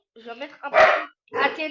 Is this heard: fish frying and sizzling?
no